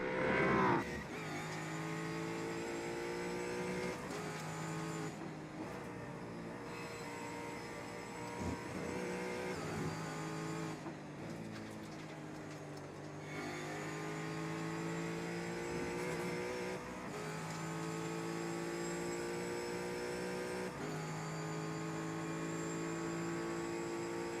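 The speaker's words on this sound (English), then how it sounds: "we'll go on board with him and see just how he's wrangling that Ford Mustang" Ford Mustang GT4 race car in iRacing at Watkins Glen, heard onboard: a loud, continuous engine note rising through revs and dropping sharply on downshifts, with steady mechanical drone throughout.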